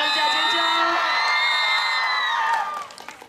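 Students at a graduation-trip evening party scream and whoop together in a loud, shrill burst of cheering that holds, then tapers off quickly at the end.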